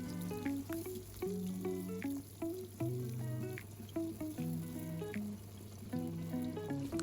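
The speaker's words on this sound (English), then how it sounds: "Heat palm oil in a pot over medium heat. Add your chopped onions and saute until translucent." Chopped onions sauté in palm oil in a pot over medium heat for a Nigerian egusi soup, giving a steady close sizzle and crackle with occasional scraping and stirring clinks throughout.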